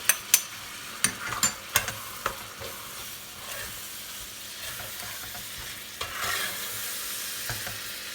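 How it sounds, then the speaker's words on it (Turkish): Minced meat sautéing with tomato and tomato paste in a pan, stirred with scrapes and knocks over a soft, continuous sizzle, close and moderately quiet. "Domates suyunu çekene kadar kavrulacak."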